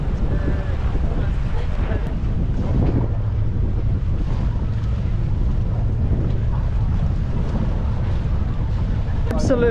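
Strong wind gusts batter the microphone on a boat off the Red Sea coast of Egypt, a continuous low roar with water and waves beneath, and voices talking faintly through it.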